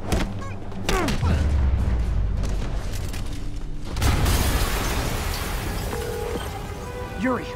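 Explosions in the Spider-Man PS4 video game roar in heavy, booming bursts with rumbling debris, a big blast hitting around the middle amid continuous game sound effects.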